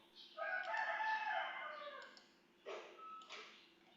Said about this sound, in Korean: 닭 우는 소리가 들렸네요.